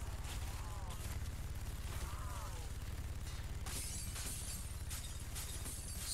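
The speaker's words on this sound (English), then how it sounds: "Destroy that. Freaking wreck that glass." Glass shatters in a zombies video game, with crashing and breaking noises against a steady low game hum and rumble at moderate volume.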